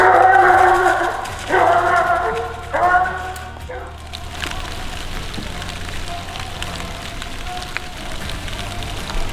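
Jack, a young Rodeo Nelly hound, bays on a hunting track in the woods about 600 yards out: three drawn-out, ringing bawls in quick succession, then fainter scattered calls over a steady patter.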